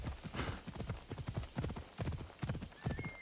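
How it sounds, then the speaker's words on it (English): Horse hooves clip-clop steadily and briskly in Assassin's Creed Odyssey, a close, even rhythm of hoof strikes continuing throughout, with faint game ambience. "Sitting on my horse"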